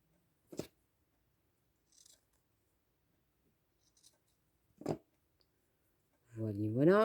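Scissors give a couple of isolated, crisp snips, far apart in a quiet room, while trimming the hair of a small handmade Christmas doll. A voice starts speaking at the end.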